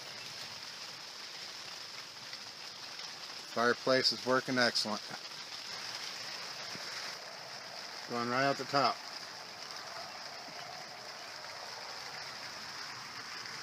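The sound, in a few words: heavy rain on tarp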